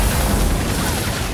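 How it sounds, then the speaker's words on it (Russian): Dense, continuous rumbling blasts and crashes from the game Evolve Stage 2 fill the clip, loud and unbroken, explosions going off one after another. "Одни взрывы только."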